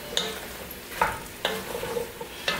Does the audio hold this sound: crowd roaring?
no